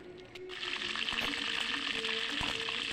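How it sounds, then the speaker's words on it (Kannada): Mustard seeds sizzle in hot oil in a frying pan for a vegetable sambar tempering, a steady loud crackle with small pops that swells in after a quiet start and fills the whole clip. "ಒಂದು ಬಾಣಲೆಗೆ ಎಣ್ಣೆ ಹಾಕಿರಿ, ಸಾಸಿವೆ ಹಾಕಿರಿ, ಒಂದು ಸ್ಪೂನಷ್ಟು."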